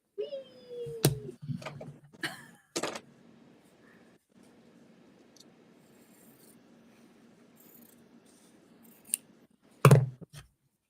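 Scissors snip through quilt fabric in a few sharp, close cuts at the start, then a quiet rustling stretch, with another crisp cut near the end; no one speaks.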